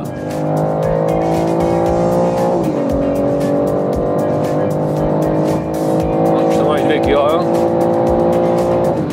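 A BMW M3's engine roars steadily at high revs, shifting pitch as it accelerates around a race track, loud and continuous from inside the car.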